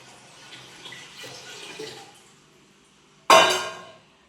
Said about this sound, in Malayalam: അപ്പോൾ നമ്മൾ വീണ്ടും പഞ്ചസാര ഇട്ടതിന് ശേഷം കുറച്ചും കൂടി വെള്ളം അതിനകത്തേക്ക് ആഡ് ചെയ്യുകയാണ്.